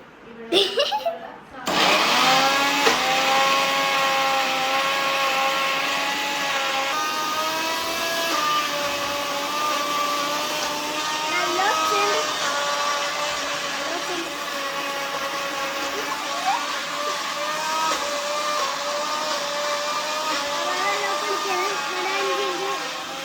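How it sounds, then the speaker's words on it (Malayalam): A mixer grinder blending carrot milkshake whirs loudly and steadily the whole time, its motor pitch wavering slightly, with a voice talking over it. "മിക്സിയിലിട്ട് അടിക്കുകയാണ് ഗൈസ്."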